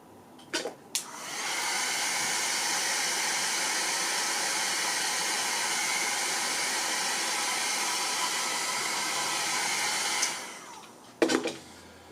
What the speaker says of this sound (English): I'm using a hairdryer in it now